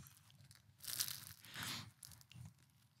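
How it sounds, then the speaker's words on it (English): Quiet close-up crunching from biting and chewing a sausage snack, two or three crisp crackly bursts against a soft background, with no talking. "You can hear the crunch."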